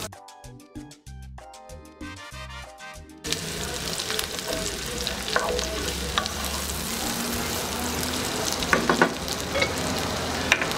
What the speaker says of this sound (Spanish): Le voy a poner una cucharada de mantequilla. Vamos a ponerle la cebolla.